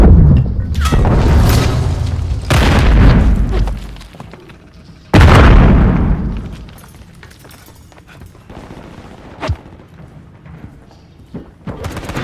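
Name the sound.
grenade explosion in Call of Duty MW3 video game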